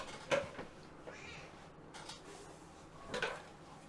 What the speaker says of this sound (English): What do you want, you cat?